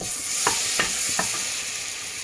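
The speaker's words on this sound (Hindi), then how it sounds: "अब हमने एक कढ़ाई ली है, उसमें हमने बटर डाला है।" Butter sizzles in a kadhai pan while making cheese pasta, a loud, steady frying hiss broken by a few scraping stirs, with no talking.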